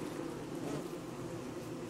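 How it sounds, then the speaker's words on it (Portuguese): Bees swarm and buzz in the game Don't Starve Together, an unbroken low droning hum, fairly quiet and even, heard alone without speech. "tem umas 30 abelhas atrás de mim"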